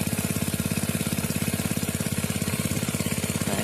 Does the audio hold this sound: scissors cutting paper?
no